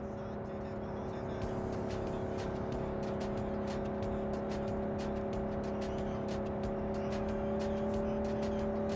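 A car driving in Cyberpunk 2077, its steady engine drone running continuously and fairly loud, with a rising rush near the start and a string of sharp ticks and clicks layered over it.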